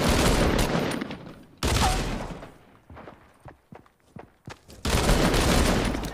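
Gunshots in a first-person shooter video game, with loud sustained bursts of fire at the start, middle and end, separated by sharp single shots and quieter footstep-like taps between.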